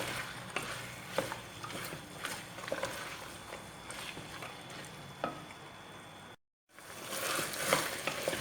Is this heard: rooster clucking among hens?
no